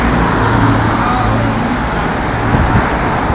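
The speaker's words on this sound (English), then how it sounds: "More cars that go past" Cars drive past on a Shoreditch street, making a loud, continuous roar of traffic close by with overlapping engine hum.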